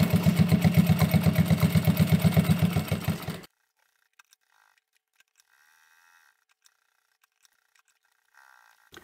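A sewing machine stitching down a line of fabric on a cutlery pouch chopstick holder, with a fast, even mechanical pulse for about three seconds before it stops, leaving near silence and a few faint clicks.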